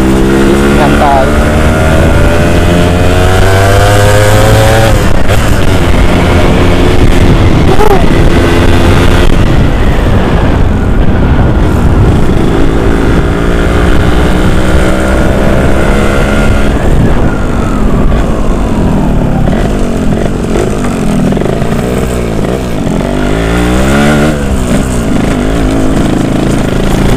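Yamaha YT115 trail motorcycle engine revs and labors while riding, pitch rising and falling with throttle changes, loud and close throughout, with a rider talking over it.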